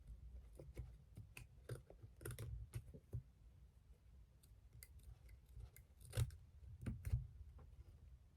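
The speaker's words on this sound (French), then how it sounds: "on va passer à la découpe de cette petite partie pour pouvoir coller les bords à l'intérieur" Small pair of scissors trims fabric covering a notebook, giving a quiet, irregular series of close snips and crisp clicks with light handling between cuts.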